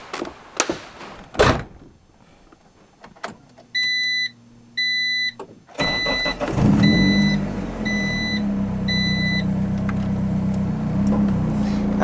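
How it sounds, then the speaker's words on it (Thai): A car with a loud aftermarket exhaust pipe gives a few clunks and a door thud, then repeated electronic beeps. The engine then starts and settles into a loud, rumbling idle that runs steadily to the end while beeps continue over it. "จะเสียง เครื่องยนต์รบกวนหน่อยนะครับ เพราะว่า รถค่อนข้าง ท่อที่จะเสียงดังอยู่นะครับ"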